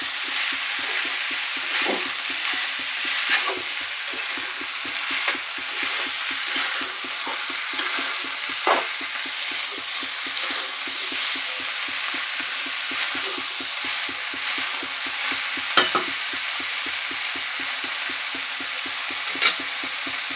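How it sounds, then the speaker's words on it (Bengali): Soybean chunks, potato and onion greens being stirred in a frying pan with poppy seed paste, a steady sizzle under regular scraping strokes of a spatula, close and continuous with no talk. "আরও একটু নাড়াচাড়া করে নেব"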